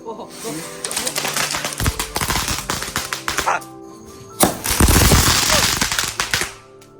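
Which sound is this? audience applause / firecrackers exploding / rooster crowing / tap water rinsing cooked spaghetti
firecrackers exploding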